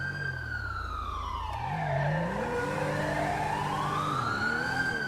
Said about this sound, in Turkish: Ambulans da geldi.